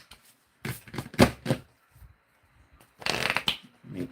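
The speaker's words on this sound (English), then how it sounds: "that I am shuffling them. And I'm not picking the cards myself" Tarot cards are shuffled by hand in quick riffling bursts, two rapid flurries of crisp paper slaps and flutters separated by a short pause, close-up and without speech.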